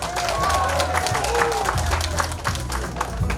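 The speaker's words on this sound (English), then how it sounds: "Let's give her a big round of applause" A crowd at a holiday gift-giving event applauds and cheers continuously, dense clapping mixed with shouts, while a voice speaks over it.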